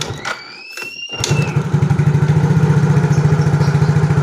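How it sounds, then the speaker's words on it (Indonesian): Yamaha Mio J scooter engine kick-started with its battery removed, a few quick kicks and clatters followed by the engine catching and settling into a steady, close, loud idle with a fast regular putter. "Saya engkol, ini akinya saya lepas ya."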